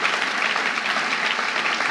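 Steady, dense applause from a church congregation at a service, loud and continuous from start to finish with no break in the clapping.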